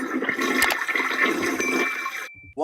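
A toilet flushes loudly and close, a rushing gurgle of water lasting about two seconds before cutting off abruptly, followed by a brief sound.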